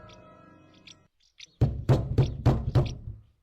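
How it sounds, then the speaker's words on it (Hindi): Someone knocks on a house door in a Hindi horror drama, about six firm, evenly spaced raps coming loud and close after a quiet, faint musical lead-in. "तब से खटखटा रहे हैं"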